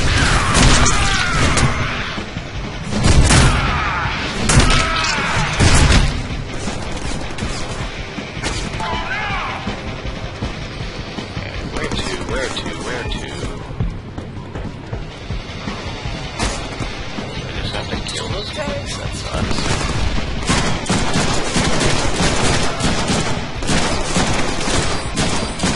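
Dense, continuous gunfire and crashing impacts in the Deadpool video game, loud and relentless with bursts of rapid shots and heavy hits layered under game music and effects.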